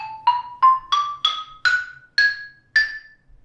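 A melodic minor scale in A rises on mallet percussion, eight bright struck notes ascending at an even pace, each ringing briefly and decaying before the next, played alone and close.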